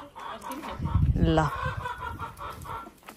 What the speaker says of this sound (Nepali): यहाँ कुखुराको चाहिँ पुरा यहाँ सिङ्गिङ कम्पिटिसन हुँदैछ